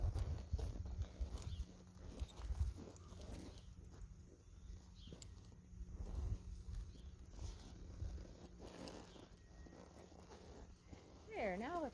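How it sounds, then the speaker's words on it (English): A horse under saddle, recovering from a leg injury, steps slowly across a tarp. Soft, irregular hoof thuds and crinkling come through faintly, with people talking quietly alongside. "let's try to see if she'll walk through the tarp"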